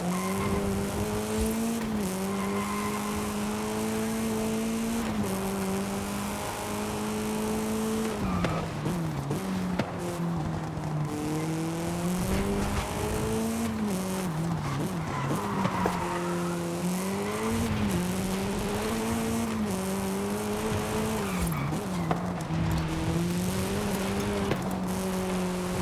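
Monster trucks race in Forza Horizon 5, engines droning and revving continuously with rising and falling pitch as gears shift, loud and steady throughout with occasional tire noise mixed in.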